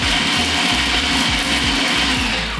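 Black peppercorns and garlic cloves being ground in a kitchen grinder for fish ball paste, a loud, close, continuous mechanical whirr with a rhythmic grinding chatter throughout.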